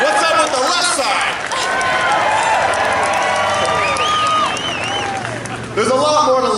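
A high school graduation crowd at an outdoor ceremony cheers and claps in a sustained, fairly close roar with scattered whoops and whistles, while a voice speaks over the noise at times.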